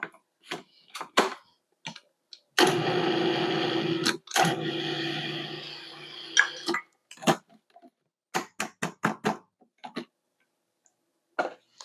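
Ingredients for no-bake chocolate protein brownie bars are mixed in a bowl: scattered utensil clicks and taps, then a few seconds of sustained scraping and stirring, followed by more sharp clinks, with no talking.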